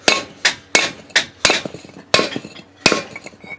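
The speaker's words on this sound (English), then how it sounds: "take this hammer like this that drops down in there and sits on the lug stud" Repeated heavy metallic hammer blows knock a brake rotor onto the lug studs of a 1987-96 Ford F-150 or Bronco, about eight strikes at an irregular steady pace, close and loud with ringing decay between hits.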